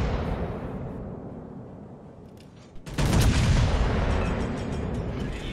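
Naval guns fire HE shells in a ship battle game: a rolling rumble of distant gunfire fades, then a loud booming salvo erupts near the three-second mark and thunders on.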